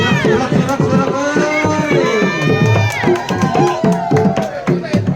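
A crowd of children and adults shouts and cheers at a Dayak children's wedding in a remote Central Kalimantan village, loud and continuous with overlapping voices close by.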